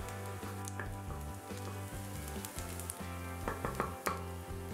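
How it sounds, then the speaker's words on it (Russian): Onion and dried chili flakes frying in a pan for a pineapple and pepper sweet-and-sour pork, a steady close sizzle with occasional stirring scrapes and no voices. "Перемешиваем и обжариваем до золотистого цвета."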